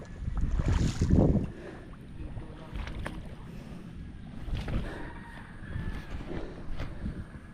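Low rumbling motorboat engine with wind buffeting the microphone, a steady outdoor drone on a river that swells and fades, no talking.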